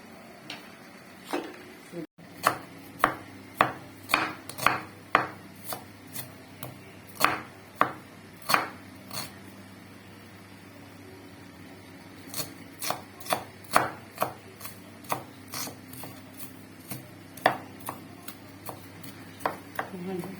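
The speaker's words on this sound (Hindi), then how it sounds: "प्याज जो है हम थोड़ा बारीक बारीक काटेंगे" A knife chops onions finely on a board for masala kofta, sharp close knocks in quick irregular runs with a pause midway, then resuming steadily; no talk.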